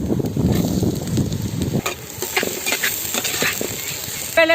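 Tomatoes sizzle as they fry in a clay pot, a loud crackling hiss at first that eases into softer spitting and stirring sounds.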